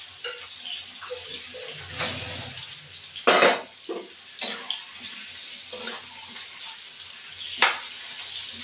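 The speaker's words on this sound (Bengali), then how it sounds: "তেল দিয়ে এবার পটলগুলো ভাজবো। লবণ হলুদ দিয়ে আলুগুলো ভেজে আগে আলুগুলো ভেজে নেব।" Oil sizzling under potatoes fried with salt and turmeric in a pan, with occasional sharp bursts and clatters as they are stirred.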